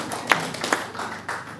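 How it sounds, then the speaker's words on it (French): Light clapping from a small audience at a French-language legal awareness session, a few distinct claps standing out over soft, thin background clapping, fairly quiet and brief. "Il faut aussi applaudir pour moi."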